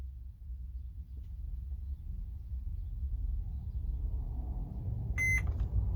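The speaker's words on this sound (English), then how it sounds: "hold the O button down, wait till you hear the beep" A short, faint electronic beep from a Mercedes Sprinter van instrument cluster rings out near the end over a low steady engine rumble.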